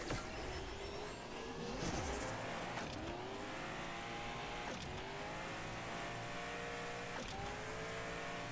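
Race car engines rev and accelerate at the start of a race in a video game, with rising engine pitches from several cars and sharp gear shifts, heard moderately loud.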